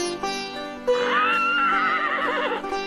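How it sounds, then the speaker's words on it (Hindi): A horse whinnies once, a loud, close neigh rising and then trembling down over about two seconds, heard alone. "यह किसकी आवाज थी? घोड़े की।"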